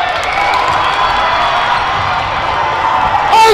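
A gym crowd at a 7th and 8th grade boys basketball game cheers and shouts after a three-pointer, a sustained loud roar of mixed voices holding steady, rising sharply again at the end.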